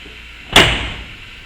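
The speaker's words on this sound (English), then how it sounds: "Shut our door, it's all the way tight." A Camaro door fitted with new T-top weather seals shuts once with a single close, solid thud that fades quickly, with nothing else heard.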